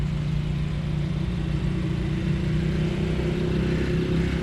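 A Nissan Juke's engine runs steadily at a Japanese performance car show, a close, loud, low drone with a constant hum and no revving.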